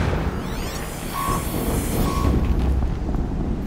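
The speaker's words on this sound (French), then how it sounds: "c'est un signal d'alarme" An alarm signal in the video game Horizon Zero Dawn: two brief, steady electronic beeps about a second apart, sitting under a loud, dense rumble of wind-like ambient noise.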